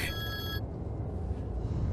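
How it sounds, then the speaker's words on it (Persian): A telephone bell rings once at the start, a bright burst of tones lasting about half a second, then fades into a low background hum with no speech. "همدی زنگ میزند"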